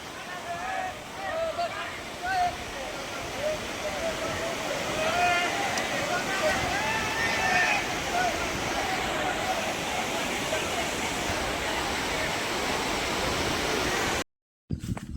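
Floodwater rushes steadily through a village beside a river, with fields along the banks flooded, a loud continuous broadband roar filling the whole stretch and faint, indistinct voices now and then beneath it.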